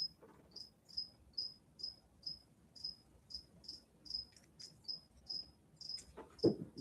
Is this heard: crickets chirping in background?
yes